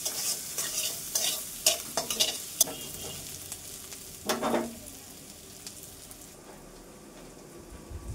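Chopped onions frying in oil in a pan with a little salt, sizzling under repeated scraping stirs and clinks of a spoon, then settling into a soft, quieter hiss.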